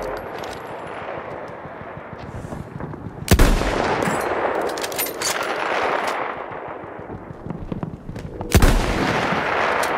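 Battlefield 1 gunfire with two sharp, loud sniper rifle cracks standing out over a steady rumble of distant battle noise and scattered shots.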